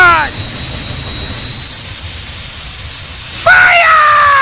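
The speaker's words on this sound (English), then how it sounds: "Stephanie Mott first out with the afterburner." Jet dragster engine at a drag racing event with the afterburner lit, a loud continuous roaring howl with high whining tones that surges louder near the end.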